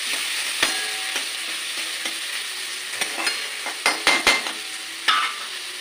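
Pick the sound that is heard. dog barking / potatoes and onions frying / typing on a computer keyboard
potatoes and onions frying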